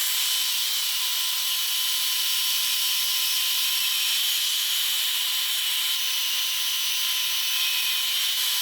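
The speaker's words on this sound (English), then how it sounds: "So I'm going to relief cut this in the bandsaw on both sides." A bandsaw relief cuts a wooden tree branch, a steady, unbroken high-pitched whine and hiss of blade on wood that runs close and loud for the whole stretch, with no talking.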